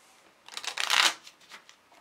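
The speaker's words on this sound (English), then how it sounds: "Then we're going to go ahead and shuffle the cards." A deck of game cards from a dungeon-crawl card game being riffle shuffled, a short quiet burst of fluttering clicks that swells and fades over about a second, followed by lighter taps as the cards settle.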